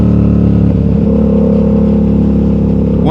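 A Yamaha R7 motorcycle engine runs steadily and loud at close range, holding a constant mid-pitched drone with a slight shift partway through, with no talking over it.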